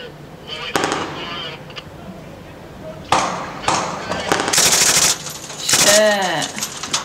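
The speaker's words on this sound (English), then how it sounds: "Shoot, that's a powerful gun." Powerful machine gun fire at a US Marine Corps and Australian Army training exercise, several loud bursts and sharp reports in quick succession, close and prominent, with a voice briefly reacting between the shots.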